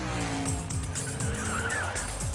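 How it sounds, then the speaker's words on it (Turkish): A fast car driving hard with squealing tires, a continuous engine roar with repeated rising tire squeals and skids, loud and close, with no talk. "Hızlı bir araba bunu eğlenceli hale getirebilir."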